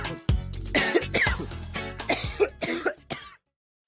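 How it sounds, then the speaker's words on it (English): Someone coughs repeatedly in a rough, close fit of hacking coughs and throat clearing, ending abruptly in silence. "Coffee does get rid of that cough."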